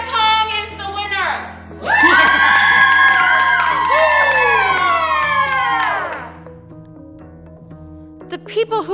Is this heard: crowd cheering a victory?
yes